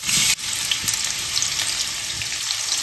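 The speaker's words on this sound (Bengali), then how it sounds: "এবারে কাঁচা কাটা আমগুলো এর মধ্যে দিয়ে দিচ্ছি।" Raw cut mango pieces drop into hot oil with black mustard seeds and burst into a loud, bright, continuous sizzle that settles into steady frying.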